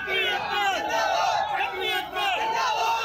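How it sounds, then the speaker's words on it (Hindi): A large crowd of Kshatriya community protesters on a street in Morena, Madhya Pradesh, chanting unity slogans in loud, continuous rhythmic waves of many voices. "सड़क पर प्रदर्शनकारियों की भारी भीड़ जमा हो गई जो क्षत्रिय समुदाय की एकता के नारे लगाती रही"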